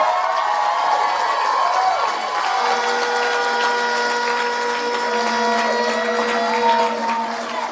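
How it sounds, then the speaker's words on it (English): Audience applause and cheering at a young people's Alcoholics Anonymous state conference in Illinois, a dense steady wash of clapping from a large crowd with tonal whistles and shouts riding over it. "Can we just thank her and give her a round of applause?"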